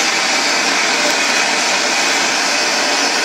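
A gas torch roars steadily and loudly up close as it heats a model boiler toward red heat for silver soldering, a continuous broadband rushing with no breaks and no voices.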